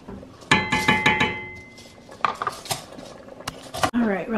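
Metal spoon stirring potatoes into turkey soup in a pot, a run of close clinks and scrapes against the pot sides, with quieter knocks and brief background voices.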